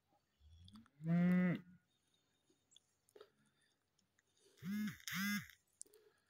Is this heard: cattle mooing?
yes